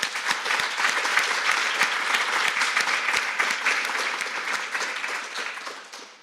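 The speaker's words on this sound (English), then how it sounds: "Another round of applause for our speaker." A conference audience at a talk on lynx recovery gives a round of applause, a dense, steady wash of many hands clapping with a few sharper individual claps, fading toward the end.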